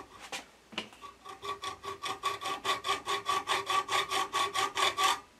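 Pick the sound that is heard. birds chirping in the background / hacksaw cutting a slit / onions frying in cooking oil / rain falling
hacksaw cutting a slit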